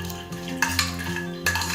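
Whole spices such as star anise, cinnamon, cloves and cardamom being stirred in a pan, soft scraping and a few light clinks of the spoon against the metal over a faint sizzle.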